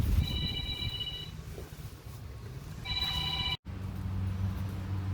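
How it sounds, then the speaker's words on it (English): A telephone rings twice in a garage beside a 1977 Chevrolet Cheyenne C10 pickup, each a clear trilling electronic burst about a second long, over a steady background hum. "there goes the phone every time I'm recording."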